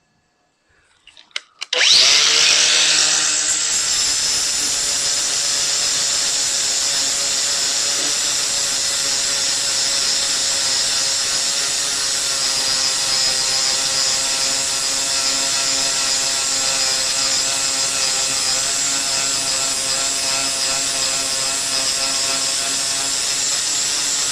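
A power tool fitted with a flap disc starts up and grinds paint off the body of a classic Toyota Celica TA22 during paint prep. The high whine runs loud and steady for over twenty seconds.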